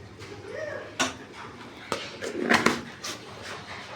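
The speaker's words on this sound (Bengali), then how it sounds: "নাড়া দেওয়া" A spoon stirs chicken curry in a pot, producing a handful of sharp metallic clinks and scrapes at irregular intervals over quiet kitchen background, with no speech.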